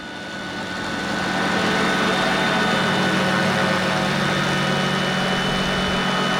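Engine of a Vario MD-500E radio-controlled helicopter running outdoors: a dense, droning whine with steady tonal overtones that swells over the first second, then holds loud and continuous.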